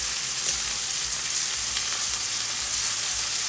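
A T-bone steak fries in a pan with butter, giving a steady, loud, close sizzle and crackle throughout with faint stirring as it is basted.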